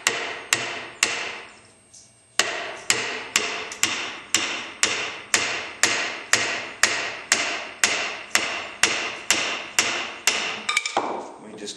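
Wood being split along the grain for an acoustic guitar brace, heard as a long run of sharp, evenly spaced tool strikes close by, with a brief pause near the start and a cracking finish.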